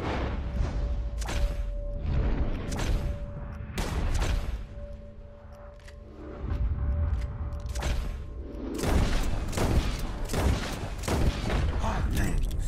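Scattered gunshots in a Red Dead Redemption 2 bird-shooting contest, with sharp, separated cracks going off at irregular intervals over quiet ambience. Each shot is loud and near, and a few come in quick pairs near the end.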